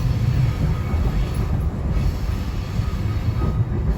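SEPTA electric commuter train rolls steadily along the old Pennsylvania Railroad branch, a loud, continuous low rumble of wheels and track noise with a steady hiss and no talking.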